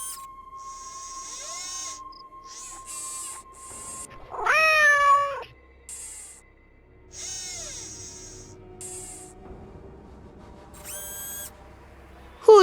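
A robotic cat in a Nancy Drew video game gives a few short electronic meows and chirps between quiet gaps, with a steady synthetic tone underneath; one louder warbling call stands out midway.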